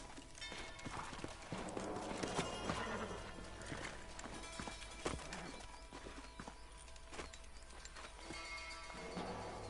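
Horse hooves in the video game Red Dead Redemption clip-clop steadily at a walking pace, with an occasional whinny and some clattering in the background.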